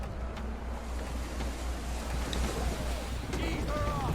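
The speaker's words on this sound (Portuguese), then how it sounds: "Que vento lateral foda" Steady wind and rushing sea water around a sailing ship in Assassin's Creed III, a continuous broadband roar with a low rumble, close and fairly loud throughout, with a few faint creaks or calls near the end.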